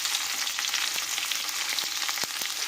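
Potatoes and onions fry in a pan with oil, giving a continuous close sizzle and crackle and a few soft stirring knocks, with no voices.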